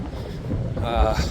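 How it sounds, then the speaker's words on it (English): Gusty wind buffets the microphone in low rumbling bursts over a short stretch, with no talking, on a foggy mountainside above 4,000 feet near the Webster Mountain Cliffs. "Still foggy, windy."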